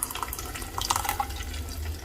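Water pours steadily into a cooking pot of dal for about two seconds, a close, continuous splashing fill with no voices.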